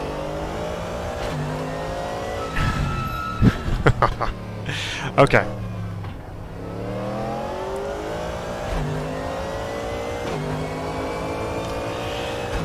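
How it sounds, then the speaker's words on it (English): A V8 race car engine in the video game RaceRoom Racing Experience, at the Red Bull Ring, revs and drones through rising and falling gear changes, with brief sharp bursts midway and a voice speaking briefly over it. "Other than a nice rumbly V8."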